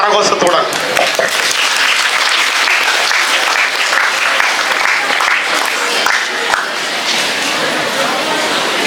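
Loud, sustained applause from the audience at a school Republic Day celebration, a continuous dense clapping with crowd murmur mixed in throughout.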